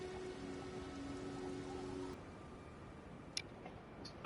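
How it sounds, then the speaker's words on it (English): Rain falls in the Elden Ring video game as a soft, steady hiss of patter. A faint tonal hum sits under it for the first two seconds, and a single light tick comes near the end. "Even though it's raining"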